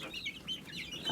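Polish hens and other chickens clucking in short, overlapping calls, fairly close and steady throughout, with no talking.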